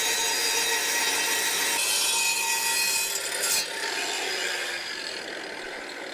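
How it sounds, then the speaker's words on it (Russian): A brick being sawn to size for a garage's window openings, held between two boards nailed together; steady, close rasping strokes of cutting run continuously, easing slightly toward the end, with no talk. "Вставляет кирпичик и пилит сюда на окна."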